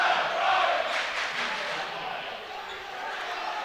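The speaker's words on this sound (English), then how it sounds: "their cheering section is getting loud" A high school basketball cheering section roars in the stands, a broad, steady crowd noise that swells near the start and then holds, with an announcer's voice talking over it.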